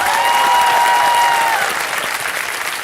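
Studio audience on a Hindi quiz show applauds contestants, loud steady clapping filling the whole stretch and easing slightly toward the end.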